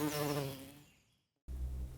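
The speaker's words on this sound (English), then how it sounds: "Honeybee," Honeybee buzzing, a close, steady insect drone that fades out, then cuts to silence before a lower hum returns abruptly.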